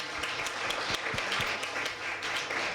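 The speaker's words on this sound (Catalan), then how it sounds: "Bueno, jo demanaria un aplaudiment per la Muna, per lo bé que ha parlat." Audience applause at a round-table discussion on adult education, a moderate steady patter of many hands clapping, fairly distant, with no talk.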